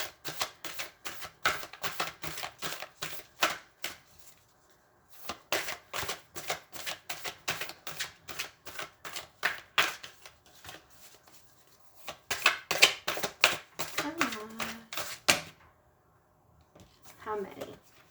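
Tarot cards being shuffled and pulled in a rapid run of crisp riffling bursts with short pauses between rounds, close and clear, with a brief voice near the end.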